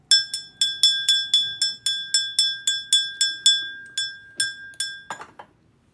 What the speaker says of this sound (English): you know I always ring my bell first.